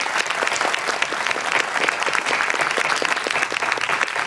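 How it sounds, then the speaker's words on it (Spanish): An audience applauds the experts at a public astronomy session, dense and even clapping from a sizeable crowd, loud and sustained throughout. "pero le vamos a dar un gran aplauso a los expertos."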